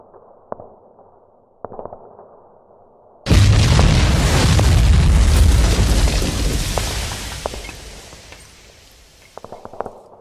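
A steel bridge blown apart in a wargame river crossing: after a few faint taps, a sudden loud booming blast lands and rumbles on for several seconds before fading back to quiet clicks.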